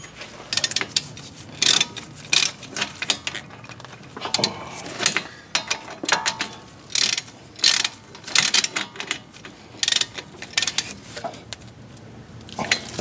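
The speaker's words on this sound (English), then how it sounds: "And then the caliper bolts go in." Ratchet clicking in repeated bursts while caliper bolts are tightened on the front brakes of a 2012 Yukon Denali, close and sharp, with short pauses between strokes and occasional metallic clinks of tools.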